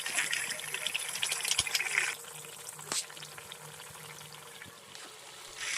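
Hilsa (bhola) fish curry in mustard sauce simmers in a pan, giving a steady soft bubbling hiss that is louder for the first two seconds, then settles into a quieter continuous simmer with one brief clatter.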